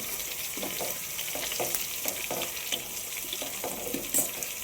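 A Kondapindi plant mixture fries in a pan while being stirred, giving a steady sizzle broken by a regular, rhythmic scrape of the spoon about every half second, close up and with no voices.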